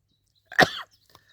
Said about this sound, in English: And that goes to what it's doing to my cough now.